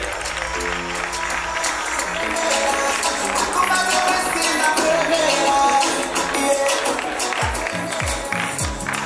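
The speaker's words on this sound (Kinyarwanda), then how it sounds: "Amashyi menshi cyane tumwakire" An audience at the International Rwanda Movie Awards ceremony claps warmly as a film director and actress is welcomed, a loud, continuous wash of applause from a large crowd, with music and voices faintly underneath.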